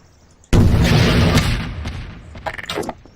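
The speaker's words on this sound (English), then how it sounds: "it's just gonna fire a missile at this bomb." A Garry's Mod missile strikes a bomb and sets off a sudden loud explosion, a close heavy boom that rolls on and fades with crackling debris and smaller pops.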